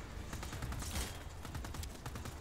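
Rapid bursts of enemy gunfire aimed at the player in the action game Just Cause 4, a dense, steady rattle of shots lasting a couple of seconds at moderate distance with no talking.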